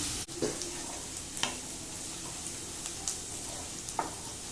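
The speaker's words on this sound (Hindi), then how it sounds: "प्याज को लाइट ब्राउन करेंगे।" Finely chopped onions frying in a pan for an egg curry gravy, a steady close sizzle with a few soft stirring scrapes and clicks, no talking.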